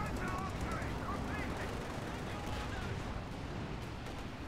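Calliope rocket artillery fires in the strategy game Company of Heroes 2, a dense, crackling barrage of launches and impacts rumbling continuously beneath the battle noise.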